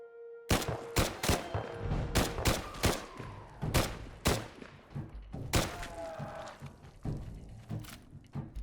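Gunfire in Fallout 4 cracks out in a rapid, uneven burst of a dozen or so sharp shots with dull thumps between them. The shots sound close, fairly quiet overall, with no talking.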